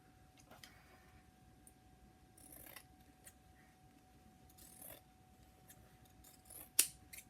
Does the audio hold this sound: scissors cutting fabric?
yes